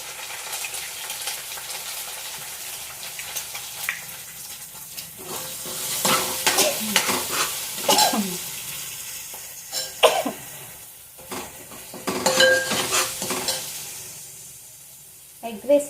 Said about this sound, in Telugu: అల్లం వెల్లుల్లి పేస్ట్ వేసిన తర్వాత ఒక ఎగ్ వేస్తున్నాం ఫ్రెండ్స్